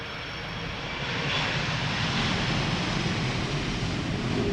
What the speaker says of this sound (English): we also saw a little sketchy landing of Qatar